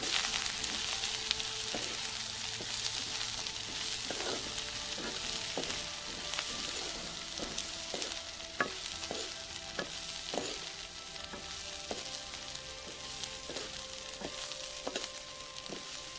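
Dried kachki fish frying in a pan, a steady bright sizzle running throughout with repeated close scraping clicks of a utensil stirring and turning the fish.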